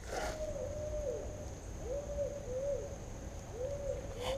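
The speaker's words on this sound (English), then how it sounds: "There's some owls hooting in the background," Owls hoot repeatedly in the distance, soft falling hoots coming in a loose series over a steady background hum, with no talking.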